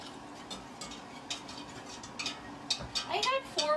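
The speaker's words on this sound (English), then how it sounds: "Philip, whisk harder." Whisk scraping and clinking against a pot while a sauce for mac and cheese is stirred, faint and continuous with light metallic taps, growing a bit busier toward the end.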